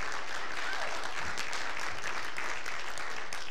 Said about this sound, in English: Would you all give him a big round of applause?